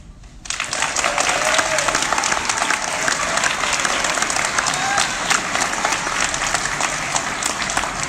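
Sustained audience applause at a Tulsa Changemakers pitch night, a dense, steady wash of many hands clapping that starts abruptly after a brief quiet moment and holds loud and even throughout.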